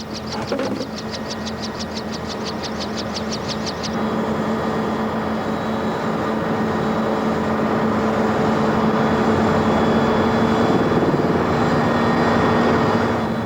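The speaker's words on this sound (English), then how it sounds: "whether the chopper will be able to lift off with this heavy load of munitions or not" South African Air Force helicopter straining to lift off under a heavy load of munitions: a steady, loud turbine roar with a low rotor hum, and a rapid rhythmic chopping in the first four seconds before the engine noise swells and holds.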